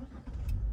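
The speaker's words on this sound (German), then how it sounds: "du hast das Auto gestartet" A car engine turns over and catches as the key is turned, a brief low rumble building to a steady idle, close and moderately loud.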